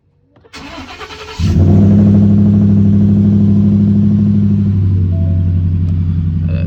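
A Ford F150 engine cranks briefly, catches and settles into a loud, steady low idle rumble close by, after a short burst of starter whir; nobody speaks.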